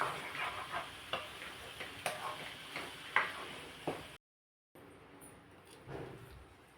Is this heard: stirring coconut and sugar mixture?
yes